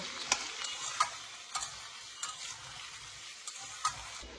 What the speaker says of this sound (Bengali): দিয়ে আলুটাকে পেঁয়াজের সাথে আমি ভালো করে লাল লাল করে ফ্রাই করব।